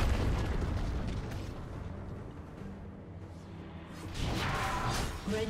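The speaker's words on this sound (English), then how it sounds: "Team's turret has been destroyed." A turret blows up in League of Legends with a broad, booming burst at the start that fades to a lower rumble, then a second bright blast rises near the end.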